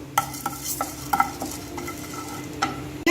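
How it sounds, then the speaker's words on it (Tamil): Toor dal dry-roasting in a pan for homemade sambar powder, with a quick series of sharp stirring scrapes and rattles over a faint sizzle, close and without talk. "அடுத்தது துவரம் பருப்பு 30 கிராம் போட்டு வறுத்துருவோம்"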